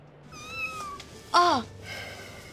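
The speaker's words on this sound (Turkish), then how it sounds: "Kedi, benim. Sende kedi?" A cat meowing in a Turkish TV drama scene, a couple of soft drawn-out mews followed by one louder, clearer meow midway, heard close in a quiet room.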